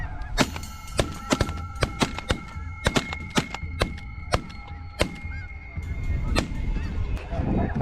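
Snow geese honk in a loose, overlapping flock chorus during a firearm hunt, punctuated by repeated sharp, loud gunshots that crack out in quick succession over the first five seconds, with no talking.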